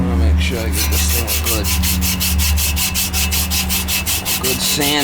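Hand sanding on a part of an air conditioning unit: loud, close, steady rhythmic scraping strokes that repeat quickly, with no talk.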